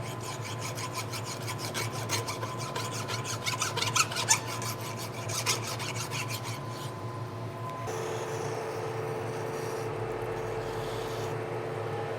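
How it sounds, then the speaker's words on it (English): A hand file rasps a burr off a machined metal stud in rapid, even back-and-forth strokes, close and clear for about seven seconds, then stops, leaving a steady workshop hum. "I got a burr right here though that I'm gonna grab the file and hit that"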